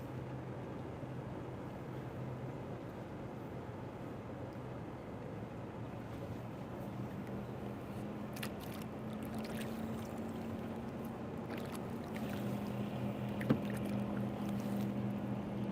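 Kayak paddle strokes dipping and pulling through open water during a fishing drift, steady low wash with light wind and faint splashes, a few sharper drips near the end, no talk.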